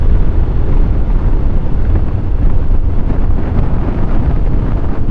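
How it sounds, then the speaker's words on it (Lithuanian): Strong wind buffets the microphone of a moving motorcycle around Kaunas in a loud, continuous low roar with gusty rumbling throughout. "dabar vėjas tai labai stiprus"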